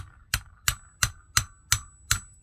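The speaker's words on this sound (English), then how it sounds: "But I'm going to tap it with a hammer, but I certainly don't want to break the glass," Gentle hammer taps on a copper rivet set against glass while repairing a vintage West German barometer: six light, evenly spaced metallic taps about a third of a second apart, close and clear with quiet between them.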